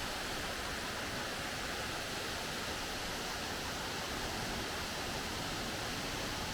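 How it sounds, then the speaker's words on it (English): Waterfall pouring beside a parked camper van on Ireland's Atlantic coast, a dense, steady roar of falling water that fills the whole clip evenly, loud and close with no gaps or other sounds. "have you ever parked your home next to a waterfall?"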